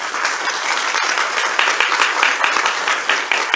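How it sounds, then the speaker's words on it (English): An audience claps for a woman at a church testimony event. The applause is loud and dense, running continuously throughout. "just give a big round of applause for Miss Stephanie"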